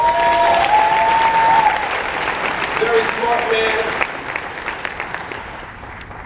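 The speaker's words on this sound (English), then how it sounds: "Can we give a round of applause" An audience at a conference talk breaks into strong applause that gradually tapers off, with a voice speaking briefly over the clapping.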